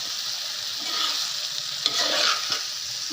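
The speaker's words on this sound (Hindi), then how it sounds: "अब इसे हल्के से मिक्स करना है क्योंकि भिंडी फ्राई हुई है।" Soft fried okra (bhindi) with tomato and onion is gently stirred in a hot pan, a steady close sizzle of frying with a few scraping stirs of the spoon rising over it, no voices.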